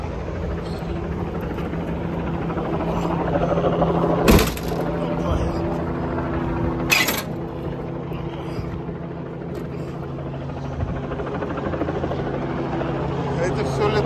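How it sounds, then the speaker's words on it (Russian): Two helicopters flying overhead: a loud, continuous rotor drone fills the whole stretch, with two sharp cracking bursts partway through. "Два вертолета было."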